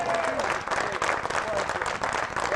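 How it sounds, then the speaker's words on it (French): Spectators at the Magny-Cours circuit applaud a race winner on the podium, a steady wash of clapping with a voice speaking over it. "on peut l'applaudir très fort"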